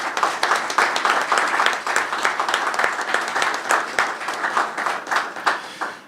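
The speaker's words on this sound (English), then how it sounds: "please, a round of applause for all of our sponsors" Audience at a press conference for summer events in Dunkirk, NY applauds sponsors, a dense steady wash of many hands clapping throughout, moderately loud with no talk over it.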